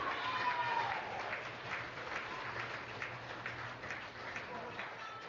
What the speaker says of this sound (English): One round of applause for all of our winners.